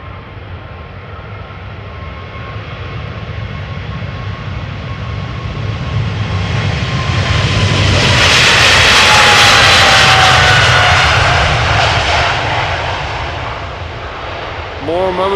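A Boeing 767 heavy jet passing on arrival at Amsterdam Schiphol Airport, a broad engine roar that swells steadily to a loud peak near the middle and then eases off, with a faint whine riding over the rumble.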